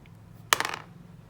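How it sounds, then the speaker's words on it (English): A die is rolled on a hard surface in a quick clatter of several close-spaced rattling taps that fade within a moment, fairly faint against a quiet background hum. "I've decided to roll a dice to see"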